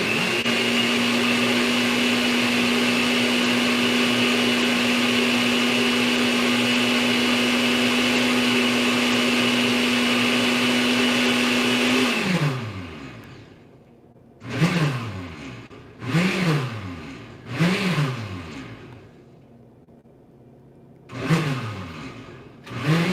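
A loud blender whirs steadily for about twelve seconds as it liquefies ingredients, then winds down and stops, followed by several short bursts of pulsing before it falls quiet.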